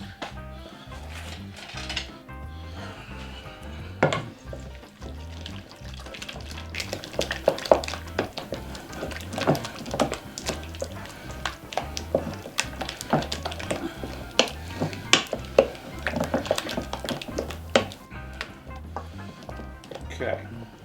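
Brisket and blue cheese coleslaw ingredients being mixed in a bowl, with irregular clicking and scraping taps of a utensil, close and moderate, under someone talking intermittently.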